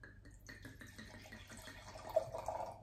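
Wine poured from a bottle into a glass, a soft, steady trickling splash that is fairly quiet and continuous throughout.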